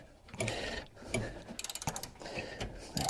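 A hand ratchet loosens engine bolts on the 4.3 V6 of a Sonoma pickup, with bursts of quick metallic clicking strokes, close and clear, including one rapid run of ticks in the middle.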